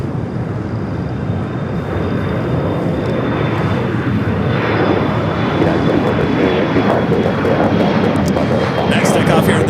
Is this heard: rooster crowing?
no